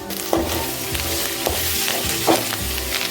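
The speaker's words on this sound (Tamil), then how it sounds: "இப்போ நம்ம எடுத்து வச்சுருக்கிற இந்த கருவேப்பிலையும் போட்டு வதக்கிடலாம்." Curry leaves sautéing in a hot pan: close, steady sizzling and frying, with a few spatula scrapes about every second, and no talking.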